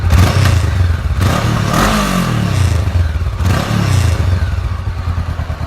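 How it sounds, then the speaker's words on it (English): A 2017 Honda CBR500R motorcycle fitted with a Delkevic 200mm exhaust idles close by with a rumbling burble, then gets two quick throttle blips that rise and fall, with some clattering mechanical noise. "I'll give it a bit of a rev."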